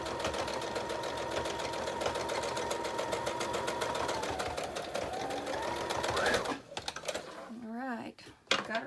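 A sewing machine stitches a fabric journal pouch in a fast, steady mechanical whir that runs for several seconds, then stops and gives way to someone talking with a few short clicks.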